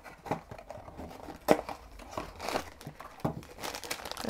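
A Funko Zootopia mystery mini figure's package is ripped open by hand, a close series of crinkling, crackling bursts with one sharp tear near the middle and more rustling afterward.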